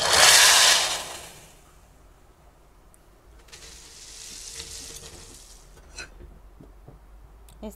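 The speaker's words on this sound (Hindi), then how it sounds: "अभी हम इनको पके हुए दाल में डाल देते हैं" Hot tadka with red chillies poured into cooked chana dal, a loud close sizzling burst that fades within a second, then a softer ongoing fry with a few clinks of a spoon against the pot.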